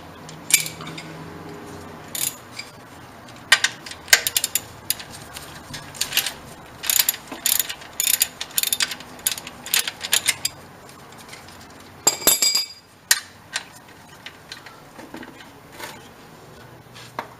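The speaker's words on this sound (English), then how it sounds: "we're going to drain all the oil, removing this bolt" Ratchet wrench with a 14 mm socket working the oil drain bolt loose on a Nissan Sentra B17, giving bursts of quick metallic clicking and rattling with short pauses, close by and fairly loud.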